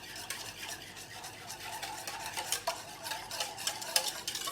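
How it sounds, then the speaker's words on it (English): Yeast is whisked into liquid for flatbread dough, making a brisk, rhythmic swishing with light scraping and clinking against the bowl, close and fairly quiet. "So I'm going to mix my yeast and my liquid."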